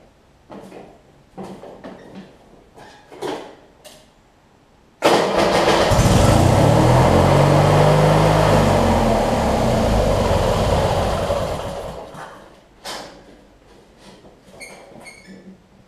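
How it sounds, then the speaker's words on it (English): A Craftsman mower's Briggs & Stratton opposed-twin engine catches abruptly after some light clatter, then roars loudly and steadily for about seven seconds before winding down, leaving faint handling sounds. "Let me lower the jack, crank it up, and see if that will actually do what we need to do. Hopefully it will crank."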